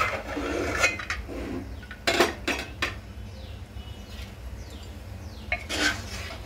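A lid comes off a pot of Bhogichi bhaji with a few sharp metallic clanks and scrapes, separated by quieter gaps over a low kitchen background.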